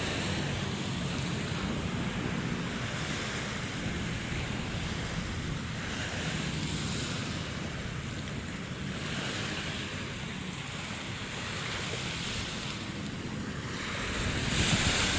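Sea waves wash steadily onto the Manila Bay shore in a continuous roar, with wind buffeting the microphone and no voices.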